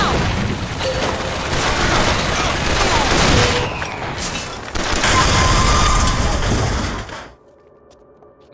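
Rocket fire and explosions in BioShock Infinite, heavy booming blasts and rapid gunfire layered over a dense roar for about seven seconds, then cutting off sharply to near quiet.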